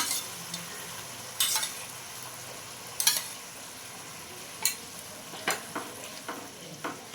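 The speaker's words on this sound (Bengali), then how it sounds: "যতক্ষণ না তেল বেরিয়ে আসবে ততক্ষণ কিন্তু আমি মশলা কষাতে থাকবো" Spice paste frying in oil for a brinjal dish, a low continuous sizzle punctuated by several sharp scrapes and taps of a spatula stirring in the pan.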